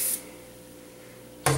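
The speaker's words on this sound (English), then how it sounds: "I will just shake this oven cleaner up, spray it on, pretty decent coat" An aerosol can of oven cleaner sprays onto a cast iron pan in two short broadband hisses, one at the start and one at the end, with a quiet gap between.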